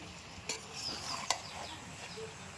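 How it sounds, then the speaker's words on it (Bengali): A spatula stirs soft cooked jackfruit in a pot, giving quiet scraping and squelching with two sharper clinks against the metal. It is close and fairly faint, with no talking. "এই দেখুন কাঁঠালটা একটুখানি খুন্তি দিয়ে দেখছি কেমন গলেছে"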